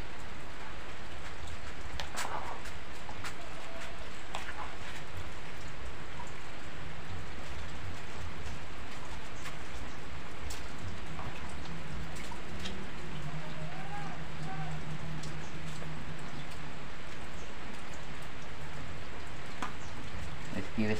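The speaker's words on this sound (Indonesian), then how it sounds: "saya mau sarapan sambil mendengarkan suara rintik-rintik" Rain falls in a steady, soft hiss with scattered raindrop patters and taps, constant and moderately close throughout.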